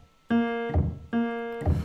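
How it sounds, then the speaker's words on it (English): A Waves Grand Rhapsody virtual grand piano plays the same note twice, each sustained tone ending in a soft thud as the hammer releases. The release noises are close and clear, with no talk over them. "When the hammer actually goes back up after hitting the string,"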